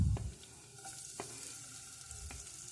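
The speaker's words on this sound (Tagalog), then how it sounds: "Tapos gigisa natin yung bawang sibuyas." Garlic and onion sautéing in hot oil in a pan, a steady close sizzle with a few sharp utensil scrapes against the pan and a brief low thump at the start.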